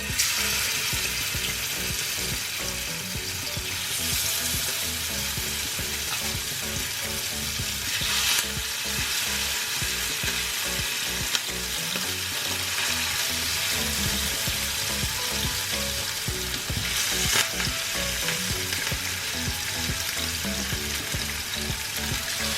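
Sardines frying in hot oil for a Kerala-style mathi fry, a loud, continuous dense sizzle with crackling that holds steady throughout, with no voices.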